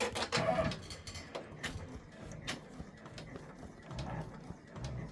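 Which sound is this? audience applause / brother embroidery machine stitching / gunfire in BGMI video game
brother embroidery machine stitching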